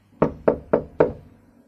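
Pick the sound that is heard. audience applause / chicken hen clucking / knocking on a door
knocking on a door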